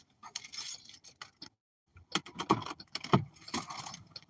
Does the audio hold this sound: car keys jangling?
yes